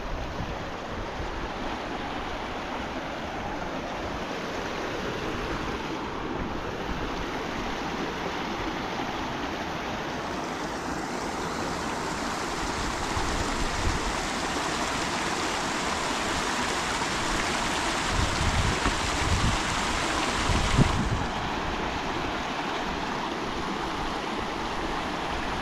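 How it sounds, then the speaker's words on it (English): A river in Heaven and Hell Valley, southeastern Turkey, rushes steadily and loudly, a continuous broadband churn of flowing water with no talk, swelling slightly in the last few seconds. "Let's cross this river."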